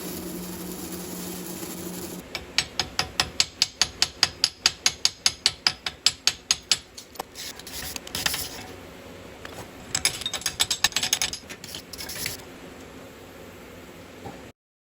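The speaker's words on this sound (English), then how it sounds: "So I just ripped out this linkage." Metal shifter linkage on a mud mower is ripped out with a fast run of loud ratcheting clicks, then scraping and clattering metal bursts before everything goes quiet.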